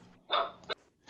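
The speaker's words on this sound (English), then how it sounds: "here is the sound of a dog barking using the camera microphone" A dog barks through a camera's built-in microphone during a virtual presentation: a short, fairly faint burst of two quick yelps followed by a third bark starting at the end, slightly thin and distant.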